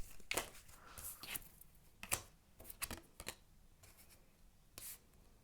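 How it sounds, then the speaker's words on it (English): Tarot cards are shuffled in soft, faint bursts of papery riffling and light taps, irregular and close, with quiet gaps between them and no talking. "I'm gonna shuffle and see what the cards have to say"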